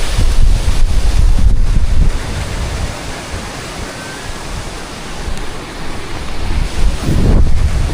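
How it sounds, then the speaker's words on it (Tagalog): Strong countryside wind buffeting the microphone in a rural province, loud gusts rising and easing then surging again near the end, with no voices. "Iba na naman yung hangin mga birds."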